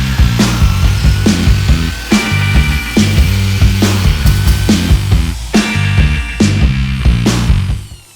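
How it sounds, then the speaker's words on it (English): Power wire brush scouring a car roof gutter down to bare metal, a loud continuous grinding whir broken by regular rhythmic strokes and brief pauses, close up with no speech. "we are wire brushing in the gutter"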